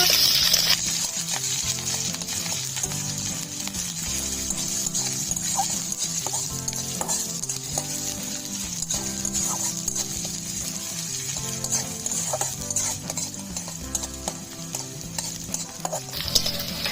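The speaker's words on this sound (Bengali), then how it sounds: "পেঁয়াজ কুচি লঙ্কা চেরা হালকা ভেজে নেব" Chopped onions and slit green chilies with cumin and garlic fry in hot oil while a spatula stirs steadily, a constant bright sizzle with rhythmic scraping strokes throughout.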